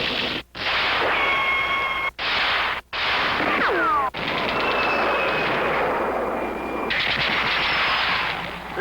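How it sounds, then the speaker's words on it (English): Marx Sound of Power toy military and Western rifles put out loud, continuous electronic battle noise: rattling machine-gun fire, whistling ricochets and rumbling explosions, broken by a few brief silences between trigger presses. "Each gun makes lots of battle sounds."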